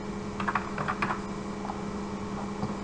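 Keys on a computer keyboard are tapped in short quick bursts of clicks, close and fairly quiet, with a pause in the middle and a faint electrical hum underneath.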